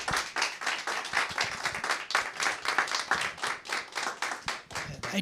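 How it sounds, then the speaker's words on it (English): A room audience gives a round of applause for public works supervisors at a town session, many hands clapping steadily and fairly close for several seconds with no talk. "I would love to have a nice round of applause for our supervisors"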